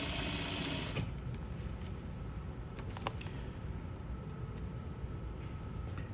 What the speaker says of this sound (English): now I'm going to do a top stitching on the edge to hold it down